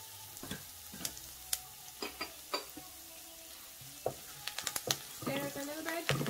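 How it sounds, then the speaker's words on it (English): Okra curry with chopped curry leaf frying in a pan while being stirred, a steady close sizzle broken by scattered sharp scrapes and clicks of the spoon against the pan, busier toward the end. "Just stir everything together."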